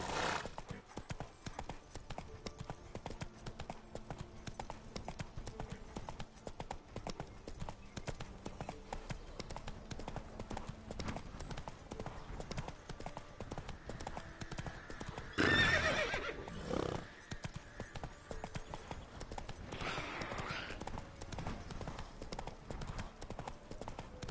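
A horse in The Witcher 3: Wild Hunt gallops with rapid, steady clip-clopping hooves throughout, breaking into a loud neigh partway through, then another softer whinny later as the pace continues.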